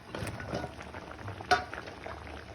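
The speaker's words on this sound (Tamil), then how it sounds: "இப்போ இது நல்லா கொதிக்குது" Thick chicken tikka masala sauce bubbles and plops gently in a pan, with a soft sizzle and one sharp clink of a utensil midway.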